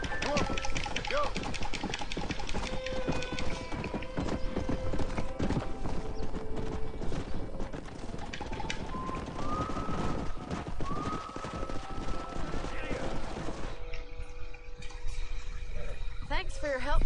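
Horse hooves clip-clop in a steady galloping rhythm in the Red Dead Redemption video game, with music and game voices talking over them.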